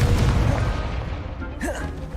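A booming blast from the Confringo spell in Hogwarts Legacy erupts at the start and rumbles away over a second or two, followed by a brief higher whoosh of game effects.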